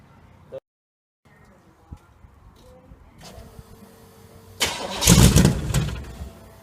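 A 1968 GMC truck engine, unrun for 20 years, cranks over and catches, firing into a loud, rough run near the end after a quiet stretch with brief clicks.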